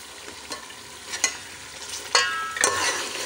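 A cup of yogurt is stirred into pulao biryani in a pot. Sizzling runs throughout, broken by a few sharp spoon scrapes and stirring strokes that grow louder toward the end, with no voices.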